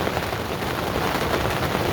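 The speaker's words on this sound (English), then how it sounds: "and now it's raining." Steady rain falls at night at a day-ticket carp lake, a dense, even patter drumming close by on a shelter surface, with no gaps and no voices.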